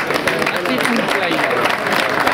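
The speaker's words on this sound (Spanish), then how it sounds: "Vaya aplauso." Crowd applauding at the trophy ceremony of a San Silvestre race in Abarán, a steady burst of many people clapping that fills the moment, with voices mixed in.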